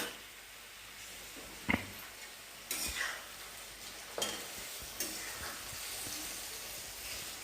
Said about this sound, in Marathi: हे अर्धवट झालेले, अर्धवट राहिलेले छान आपण तळून घेऊ